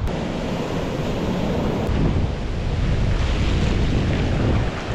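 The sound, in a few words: large ocean waves at high tide on Bagda beach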